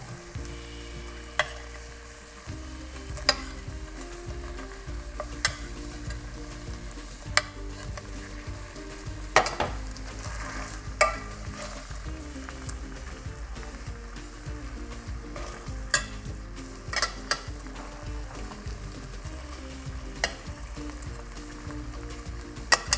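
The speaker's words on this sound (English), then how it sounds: "Gonna tilt the pan and baste those again." Chipotle mojo fajita meat sizzling in a tilted pan while being basted, a soft steady hiss with scattered sharp pops and spoon clicks, no talking.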